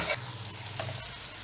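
Pickle masala with a piece of mango frying in a pan for achari bhindi, a soft continuous sizzle with a faint scrape of stirring, close and brief.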